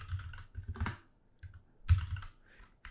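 Keys clatter on a computer keyboard as a Python string is typed, in short uneven bursts of close clicks separated by brief pauses, with no talking.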